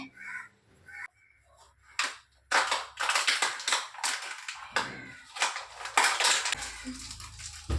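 Plates and utensils clatter and scrape against each other in repeated bursts, with water-like scrubbing noise filling the gaps, close and fairly loud.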